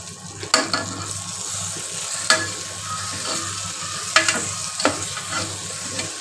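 Masala stirred into dal khichdi in a pan: a steady soft sizzle with scraping spoon strokes and a few sharper clinks against the metal, alone without talk.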